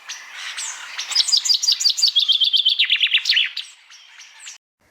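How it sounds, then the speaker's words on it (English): A bird sings a bright, rapid trilling song of quick repeated chirps, close and clear, ending with a few separate notes. "Some birds make lovely sounds using a vocal sound apparatus that works identically to humans."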